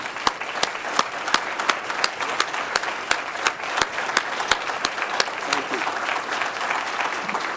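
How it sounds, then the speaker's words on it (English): An audience at a Virginia Tech and Boeing partnership announcement breaks into loud, sustained applause, dense clapping with sharp individual claps standing out, close and continuous with no talk over it. "Let's give them a big round of applause."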